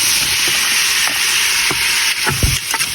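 Fish sauce and chopped tomatoes hit a hot pan beside pork pata, setting off a loud, steady sizzle and hiss with a few scraping stirs toward the end, no voices.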